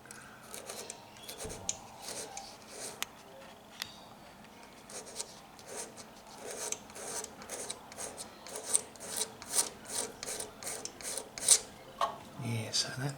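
Paint is scraped back by hand on a 1955 pressed steel bumper, giving a close, quiet series of rasping, scratching strokes in an uneven rhythm that quickens toward the end.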